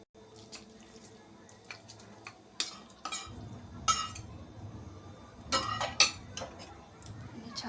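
Spoon stirring paneer kheer with condensed milk in a pan, quiet scraping and clinking strokes in irregular bursts against a soft kitchen background.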